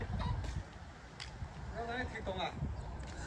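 Chickens cluck and call at a Chinese village farm, faint and somewhat distant, under a person talking nearby.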